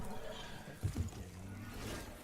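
A horse in the video game Warframe gives a brief neigh and hoof-like thumps near the middle, set against a steady hum of game background sound.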